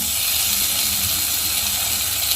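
Chopped tomato drops into a hot pan while cooking spiced sprouted moth bean misal, setting off a steady, loud, broadband sizzle that hisses continuously without pause.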